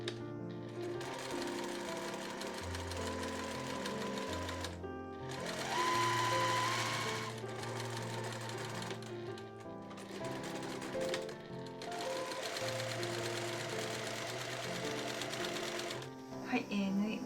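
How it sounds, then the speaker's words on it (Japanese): A sewing machine stitches along the edges of a reversible bamboo tote bag with an edge-stitch foot, a steady rapid mechanical whirr in long runs with brief pauses between them, close and continuous. "それでは今回は段押さえを使って縫います。"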